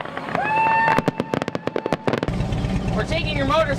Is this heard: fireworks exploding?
yes